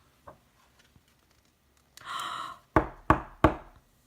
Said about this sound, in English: A knock, knock at the door.